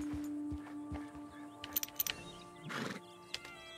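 Horse whinnying in Red Dead Redemption 2, a few short high neighs and snorts heard moderately close over quiet game ambience, with a softer breathy burst near the end.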